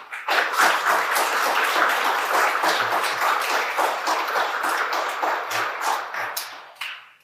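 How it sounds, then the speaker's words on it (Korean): Dense, full applause from a symposium audience welcoming a priest to speak, a steady wash of clapping that holds strong, then thins and fades at the end. "큰 박수로 맞아주시기 바랍니다"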